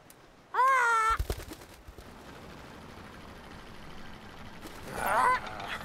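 A cartoon bird honks like a goose in an animated children's adventure: one loud, nasal, wavering honk near the start, then clattering noises and a second shorter honk near the end.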